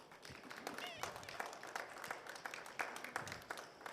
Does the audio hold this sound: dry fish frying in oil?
no